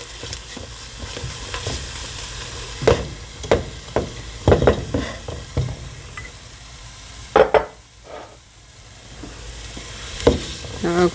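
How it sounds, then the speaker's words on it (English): Stirring flour into butter, onions and garlic in a pot to make a thick paste for potato soup, with irregular scraping strokes and soft clacks of the spoon against the pot over a low background sizzle. "You just keep stirring it for a few seconds."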